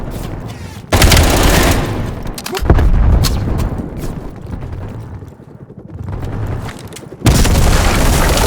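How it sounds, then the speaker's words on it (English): In the game Call of Duty Black Ops Cold War, heavy booms and rolling gunfire come in loud waves, with deep explosive hits around one, three and seven seconds over continuous battle noise. "Incoming grenade!"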